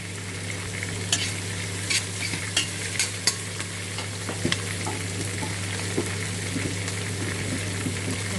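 Onions frying in a pan, a steady close sizzle over a low hum, punctuated by regular light taps and scrapes of a spoon stirring.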